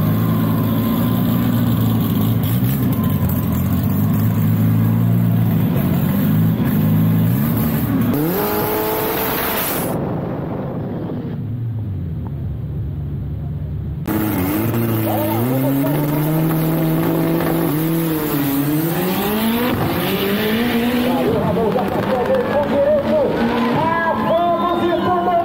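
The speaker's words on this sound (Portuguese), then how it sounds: "Vem dois carros da Nego Velho Preparação." Modified race cars, Chevettes and Volkswagen Fuscas, roar loudly past on a dragstrip, engines revving up through the gears with sweeping pitch, a brief muffled lull, then more hard acceleration.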